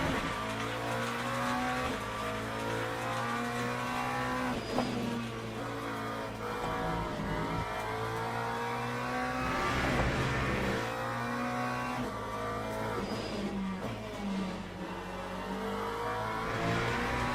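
GT3 race car engines in the Le Mans Ultimate sim racing game run loud and steady, with rising and falling revs through gear changes, occasional tire squeal and cars close by throughout.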